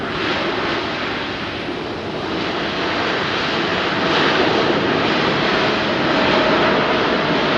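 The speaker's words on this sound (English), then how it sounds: "the Emirates go around till it will just look like an Emirates 380 taking off" An Emirates Airbus A380 performing a go-around at London Heathrow, its engines producing a loud, steady broadband roar that swells slightly toward the end, with no one speaking.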